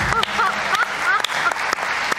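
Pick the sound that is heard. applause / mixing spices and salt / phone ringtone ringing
applause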